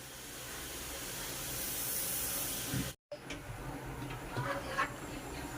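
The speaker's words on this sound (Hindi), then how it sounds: "ये चाय रख दिया बनने के लिए, अब चाय बन रही है, आगे उबाल, और इधर दूध गर्म हो रहा है बच्चों के लिए" Tea boiling in a pot on a gas stove, a steady close hiss and bubbling roar that cuts off abruptly, followed by quieter burner hiss with faint clinks.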